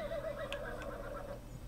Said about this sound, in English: Why are you neighing?